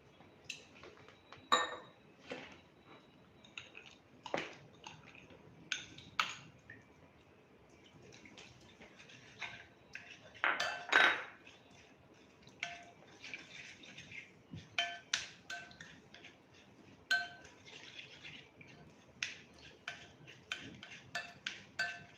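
Vegetable roll slurry is mixed in a large bowl, with a long run of quiet, irregular taps, clicks and soft wet scrapes of a utensil against the bowl, close but faint.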